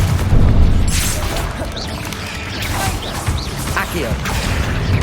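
Confringo fire spell explosions in Hogwarts Legacy combat: loud booming blasts and crashes over a dense, busy layer of game effects, with a few sharp bursts standing out.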